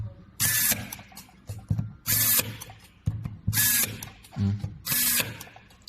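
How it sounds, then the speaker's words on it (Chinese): An electric screwdriver with its torque adjusted drives M3×12 self-tapping screws into the cover of an oxygen concentrator's solenoid valve. Four short, loud whirring bursts come close up, separated by brief pauses. "打这个螺丝的时候，这个 M3×12的自攻螺丝"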